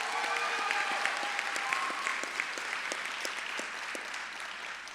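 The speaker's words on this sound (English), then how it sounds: "Let's give her a big round of applause." A graduation audience at John J. Duggan Academy applauds a singer, dense sustained clapping from a large crowd that holds steady, then eases slightly toward the end.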